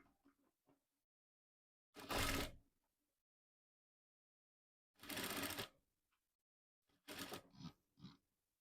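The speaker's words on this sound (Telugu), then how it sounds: "ఇలా స్టార్టింగ్ నుంచి 1 ½ ఇంచ్ వరకు ప్లెయిన్‌గా పెట్టుకొని స్టిచ్ అనేది వేసుకోవాలి" Sewing machine stitching fabric for a one-year-old's baby top, heard as three short close whirring bursts separated by silence, with faint handling sounds at the start.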